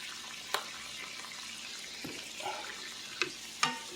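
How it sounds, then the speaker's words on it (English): Quiet, steady sizzling of rigatoni dish ingredients seasoned with garlic powder frying in a pan, with a few sharp clinks and scrapes of a utensil against it. "You hear that sizzle?"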